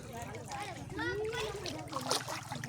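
Water splashes and sloshes in a deep river while children and adults talk and call out excitedly over it.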